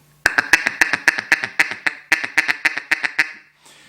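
A duck call quacks in a rapid string of about fifteen sharp, raspy bursts, close and loud, speeding slightly before stopping.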